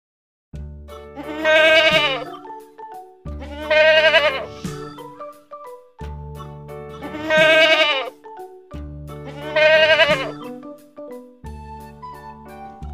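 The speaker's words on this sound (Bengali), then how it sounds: "ছয়ে ছাগল ছানা লাফিয়ে চলে" A goat kid bleats in four long, wavering cries spaced a few seconds apart, loud and close, with quiet pauses between them and no talking.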